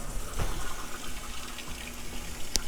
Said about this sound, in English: Oh, make sure you turn your water on first.